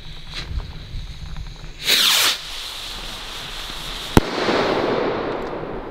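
A firework rocket launches outdoors on a rainy evening with a brief rising whoosh, followed a couple of seconds later by one sharp crack and a sizzling hiss of falling sparks.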